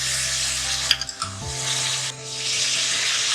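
Chicken with fried garlic and ginger hitting a hot pan, a broad hissing sizzle with a few clattering knocks partway through, steady and close.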